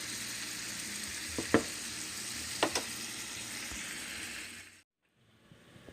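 Bacon pieces frying in a frying pan, a steady quiet sizzle with a few soft clinks of stirring, cutting off abruptly near the end.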